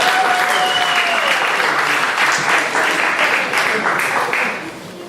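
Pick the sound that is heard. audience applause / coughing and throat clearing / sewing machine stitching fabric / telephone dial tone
audience applause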